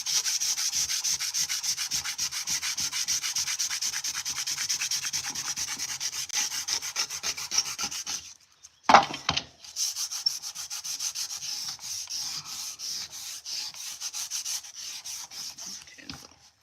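Hand sanding with sandpaper scrapes in fast, rhythmic rubbing strokes, close and steady, pausing briefly with a bump before resuming at a slightly quieter level.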